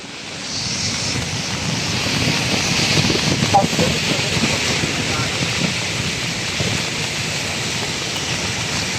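Loud gusting typhoon wind at Manila Bay roars continuously, swelling midway and staying heavy throughout, with a broad rushing hiss close to the microphone.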